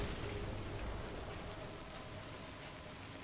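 Heavy rain in the video game Death Stranding, a steady, even hiss of downpour on surfaces that stays fairly quiet and constant throughout, with no talking.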